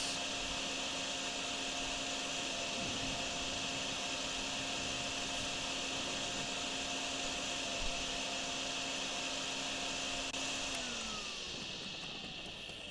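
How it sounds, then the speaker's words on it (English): Steady whining vacuum drone from a water-sucking vac in the drain-cleaning game DrainSim, running continuously at near-constant loudness, its pitch dropping slightly as it winds down at the end. "Right, let's vacuum all of this."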